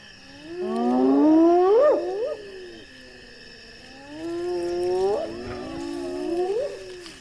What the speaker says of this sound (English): Hyenas, the lion's eternal rivals, are quickly on the scene.